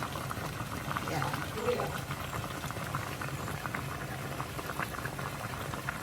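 Sinanglay cooking in a pot with ginger, onion and garlic, bubbling at a steady boil throughout, with people talking faintly in the background over the simmering.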